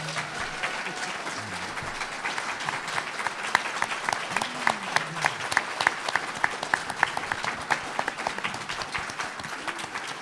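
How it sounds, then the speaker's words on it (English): Sustained applause from a conference audience honouring the speakers of the Secret Space Program Conference, dense steady clapping filling the room throughout with a few sharper claps standing out. "Let's give them a huge round of applause."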